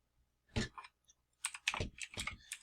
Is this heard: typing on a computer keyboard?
yes